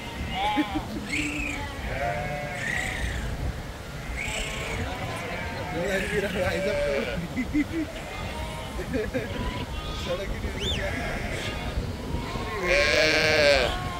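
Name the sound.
large flock of sheep bleating in mountains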